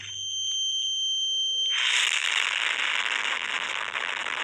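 Countdown bomb in a video game: a steady high beeping tone gives way to a loud sustained crackling explosion with a roaring hiss that fills the rest of the stretch, no talk.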